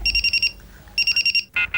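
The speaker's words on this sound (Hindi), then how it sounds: "इसका अलार्म बंद करो तो उसका अलार्म शुरू होता है" An alarm clock rings in two bursts of rapid, shrill, evenly pulsed beeps separated by a short gap, then a second, different-pitched alarm starts up right after. The ringing is close and loud, with no talking.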